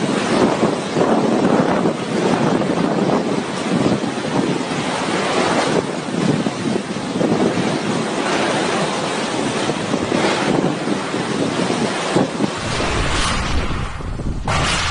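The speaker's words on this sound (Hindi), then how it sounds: "हवाएं इतनी तेज है कि वो पूरी तरह से हिला दे रही है।" Strong winds of Cyclone Amphan in West Bengal, a loud continuous roar of gusting air buffeting the microphone, steady and close throughout before easing slightly at the very end, with no voices.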